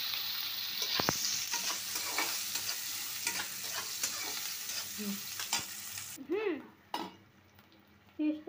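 Beef tripe sizzles loudly in a hot pan on a gas stove while a spatula scrapes and stirs it, with metallic clinks of utensil against pan and a brief lull as the frying briefly quiets.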